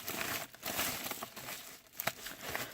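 Butter knife slicing through the plastic packaging of a Witeden 3x3x5 puzzle cube, a close run of crinkling, tearing crackles and scraping plastic with short sharp snaps near the end.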